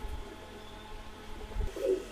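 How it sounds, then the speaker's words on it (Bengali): A pair of Oman Teddy pigeons give a faint, low coo near the end, with soft bumps and room hum around them. "এখানে একজোড়া ওমান টেডি কবুতর আছে বেবি"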